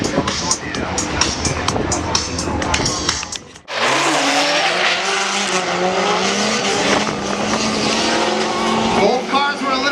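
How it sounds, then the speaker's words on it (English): Drift cars slide through a corner at a drift competition, with loud engine revving and long tire squeal, a brief drop, then a screeching skid. Commentary runs over the sound. "Brandon holding Drift through the whole corner"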